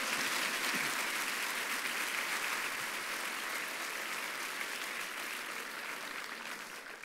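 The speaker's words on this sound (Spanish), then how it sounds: "¿Cuánto le da un aplauso a Dios?" A church congregation applauds for God during a sermon, a steady, even roar of many hands clapping that runs for several seconds and slowly eases, heard from a moderate distance.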